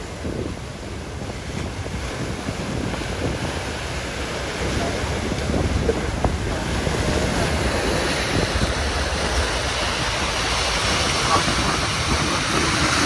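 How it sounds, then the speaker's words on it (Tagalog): Heavy surf rumbles continuously on Manila Bay near the Remedios Outfall, with wind buffeting the microphone, the waves swelling slightly louder partway through. "Enjoy pa rin maligo si tatay no kahit na lakas ng alon."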